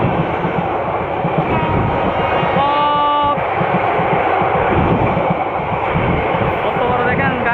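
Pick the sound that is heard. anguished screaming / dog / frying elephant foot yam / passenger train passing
passenger train passing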